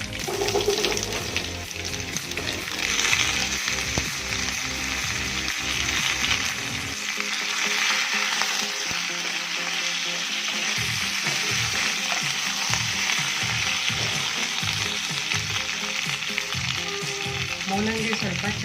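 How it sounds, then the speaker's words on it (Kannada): Radish pieces fry in hot oil with curry leaves for a radish sambar, giving a steady loud sizzle throughout with occasional clatter of stirring, and no one speaking. "ಮೂಲಂಗಿ ಸ್ವಲ್ಪ ಚೆನ್ನಾಗಿ ಎಣ್ಣೆಲೇ ಫ್ರೈ ಆಗಬೇಕು."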